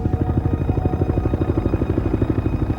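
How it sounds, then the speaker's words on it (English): Navy helicopter in flight: a steady rapid thudding of rotor blades with an engine drone beneath, loud and close, holding an even rhythm throughout. "rushed to the crash site in a Navy helicopter"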